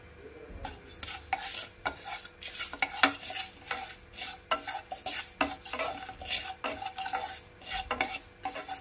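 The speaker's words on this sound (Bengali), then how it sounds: "আস্ত জিরে আর 2টো শুকনো লঙ্কা। এটাকেও আমি ড্রাই রোস্ট করে নেব।" Whole cumin seeds and two dried red chillies dry roasting in a pan, a steady scraping stir with rhythmic rattling strokes and soft crackle, no voices.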